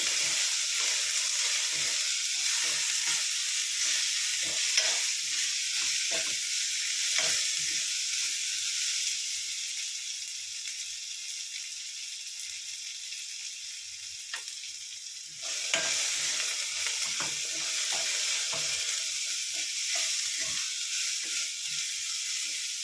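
Sour gongura leaves sizzle and hiss in a hot pan while a spatula scrapes and stirs with frequent irregular clicks, a steady loud frying that dips briefly and then surges back.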